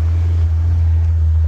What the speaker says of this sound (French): Mets un peu d'accélération, genre embraye complètement.